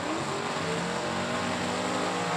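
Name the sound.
drag racing cars running down to the finish line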